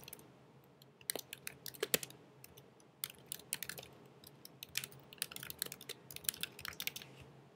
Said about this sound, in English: type in your name.